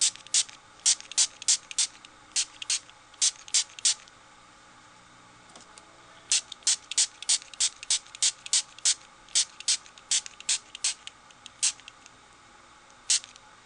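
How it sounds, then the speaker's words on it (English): Card panels being sprayed wet with a spray bottle for an Easter card, many short sharp spritzing bursts in quick rhythmic runs, close and loud, with a pause between two groups. "I want to get that well sprayed and good and wet"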